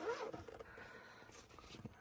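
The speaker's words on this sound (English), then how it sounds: "Zippers over here," A zipper is pulled on a Tesla charging-cable travel case, a quick close scratchy rasp at the start followed by faint rustling and handling sounds.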